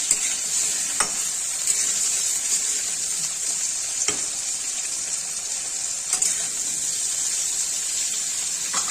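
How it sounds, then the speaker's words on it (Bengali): Onions and spinach sizzle steadily in a hot pan, a continuous bright hiss broken by occasional stirring scrapes, close up and without voices. "ভালো করে একটু ভাজা ভাজা করে নিলে পালং শাকগুলো দিয়ে দেব"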